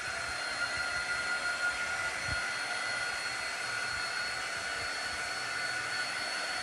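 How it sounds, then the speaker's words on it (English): Small air dryer blowing on wet chalk, a steady, even whooshing hiss that runs unbroken and close throughout, with no talking. "this is just a little air dryer. So I'm just speeding up this process real quick"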